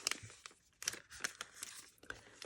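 Scissors cut along the edge of a crinkly cellophane bag, giving a run of short crackling snips and crumpling rustles, close and fairly quiet, with no talk.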